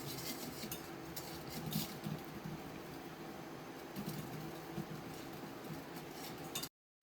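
Soft clinking and scraping of a utensil against a bowl as bread is crushed and mixed into potatoes for aloo bread tikki, a steady quiet rhythm of stirring and rubbing up close.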